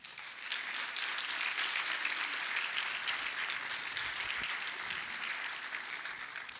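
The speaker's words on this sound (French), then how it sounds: "Applaudissons-les également." Audience applause fills a graduation hall at a Master's degree ceremony of a university finance department, steady and dense clapping from a large crowd throughout, fairly distant and even.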